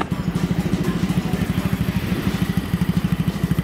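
A Yamaha Majesty 125 scooter engine idles steadily after warming up, a close, even, rapid low putter that stays constant throughout, with no talking.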